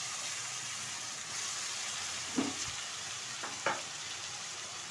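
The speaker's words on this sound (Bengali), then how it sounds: "পেঁয়াজটা একটু ভালোভাবে ভেজে নেব।" Onion paste fries in hot oil with cumin, giving a close, steady sizzle broken by a few scraping stirs of a utensil in the pan.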